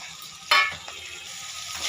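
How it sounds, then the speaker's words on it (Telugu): Finely chopped onions and green chillies frying in oil for a fish dum biryani, a quiet sizzle with a sharp utensil clack near the start and soft stirring after. "ఈ ఉల్లిపాయలు చిన్నగా తరుపుకొని వీటిని బాగా ఫ్రై చేసుకోవాలి"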